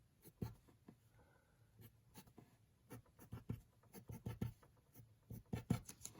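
Pen or pencil writing out the key signature of E sharp on paper, with short scratchy strokes and taps coming in irregular bursts, close and fairly quiet, with no talking.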